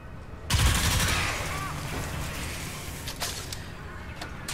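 Gunfire in the video game Crysis 3, a loud burst of rapid shots that trails into a sustained noisy roar with scattered further cracks.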